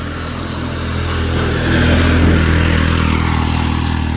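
Vehicle engines labor up a steep hill on a Konkan road between Mumbai and Dapoli, a loud, continuous drone that swells and strains partway through, heard close with no voices.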